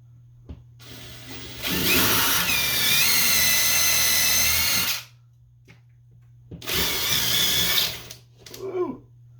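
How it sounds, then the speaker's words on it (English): A power drill bores holes into a wall stud for mounting a TV, with two loud, close bursts of whirring, a long one of about three seconds and a shorter one later, separated by quiet gaps. "Time to drill 2 holes, put 3 screws in"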